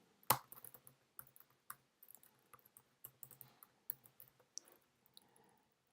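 Quick, light keystrokes on a computer keyboard tap out in an irregular run of clicks, close and quiet, with no talking over them.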